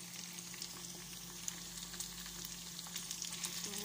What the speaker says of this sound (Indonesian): Ini saya udah dibumbuin, mau saya goreng kering